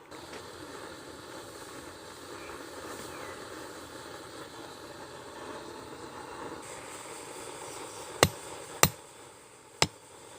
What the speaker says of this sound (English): I rectified that just by upsetting the end.